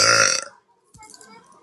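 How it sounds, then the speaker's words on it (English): A loud, deep burp from a young woman on a TikTok live stream, a single strong belch lasting about half a second, followed by quiet and faint background voices. "I burp really loud."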